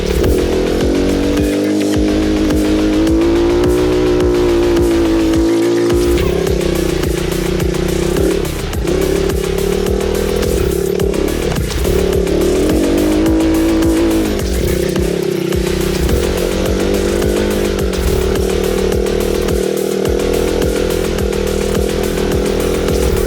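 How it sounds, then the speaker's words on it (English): A 110cc kids' quad bike engine buzzing continuously as it rides around a track, loud and close with rising and falling revs through the turns and no talking. "110cc quad around the track with young little Max here"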